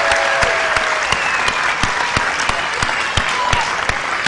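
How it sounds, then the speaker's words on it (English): Audience applause at a magic show, steady and fairly loud, with a few sharp individual claps standing out clearly from the mass of clapping throughout. "a big applause for our helper right over here"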